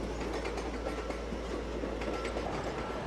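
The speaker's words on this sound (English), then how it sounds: "But local trains come and go, day and night." A train passes through St Pancras station in London with a continuous heavy rumble and rhythmic wheel clatter, loud and near with no voices.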